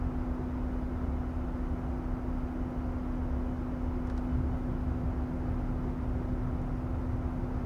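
A steady, low-pitched aircraft howl on descent fills the iFly flight simulator game, a constant droning hum with a fixed low tone that holds without change throughout.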